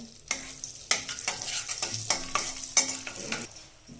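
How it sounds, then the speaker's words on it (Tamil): Cinnamon, cloves, cardamom and bay leaf tempering in hot ghee and butter for a restaurant-style pea gravy, a close crackling sizzle broken by repeated scraping stirs of a spoon against the pan. "அதில் நான் எடுத்து வச்சுருக்க பட்டை 3 லவங்கம், 2 ஏலக்காய், பிரிஞ்சி ஏலக்காய் அது சேர்த்துட்டேன்."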